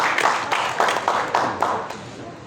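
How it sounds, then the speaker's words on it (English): Rhythmic clapping from a group at a new yam festival and award ceremony, about six evenly spaced bursts of hand claps, fairly close and moderately loud. "Please, a round of applause for this celebration."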